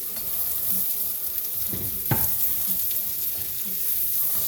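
Green and red peppers sauté in a pan for Thai basil fried rice with chicken, a moderate, steady sizzle with a few scraping stirs and one sharp clink of a utensil midway.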